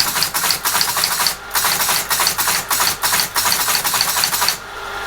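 An ASR33 teletype machine runs close by with loud, rapid mechanical clatter, the chattering pulsing in bursts with brief pauses and a steady motor hum underneath.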